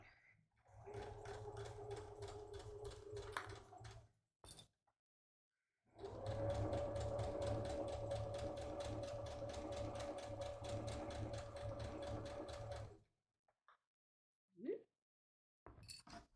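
A sewing machine backstitches a seam on a drawstring project bag with medium gray thread, whirring in two separate bursts, a short run and then a longer steady one, with brief clicks and quiet gaps between.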